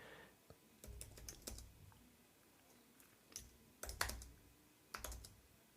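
Fingers type on a computer keyboard in short bursts of clicks separated by pauses, quiet and close, with no one speaking.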